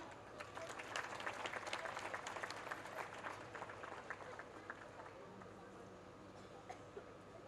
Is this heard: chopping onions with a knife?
no